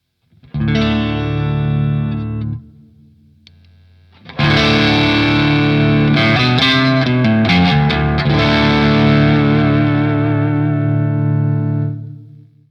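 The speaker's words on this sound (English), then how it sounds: "If you turn the gain knob all the way down, you can still use volume to boost your amp." An electric guitar through a NUX Steel Singer Drive low-gain overdrive pedal rings out a chord, pauses, then strums a louder gritty passage that sustains and slowly fades.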